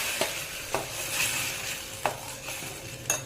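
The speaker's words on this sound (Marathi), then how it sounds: "कांदा भाजला आता आपण वाटण टाकायचं." Ground spice paste frying with onion in a pan for Goan-style prawn curry: a steady, close sizzle with a few sharp scrapes and knocks of a spoon stirring against the pan, no talking.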